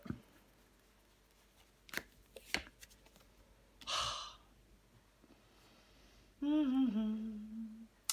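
Tarot cards are handled and turned over, giving a few faint, brief taps and slides, with a short breathy sound and a tonal hum-like vocal sound near the end.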